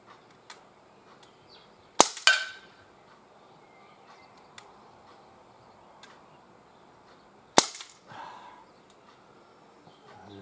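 A Gamo MP-9 air pistol fires pellets at cans outdoors: two sharp, close shots several seconds apart, each followed almost at once by a smaller tinny impact.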